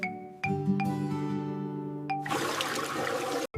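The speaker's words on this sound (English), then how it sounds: "Now it's time for the flush." A toddler's potty-training toilet flushes after a few soft chimes and a trickle of water, ending in a loud rushing whoosh of water that fills the last second before cutting off.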